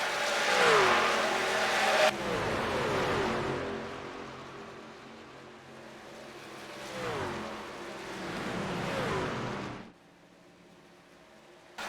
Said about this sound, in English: we got the number 10 car coming back on the track. He's coming out of the pits